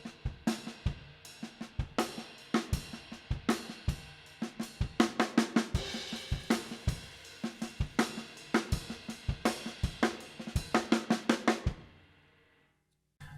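A live drum groove with soft snare ghost notes between the main hits, steady and loud with dense fills of quick strokes, played alone before ringing out into near silence at the end.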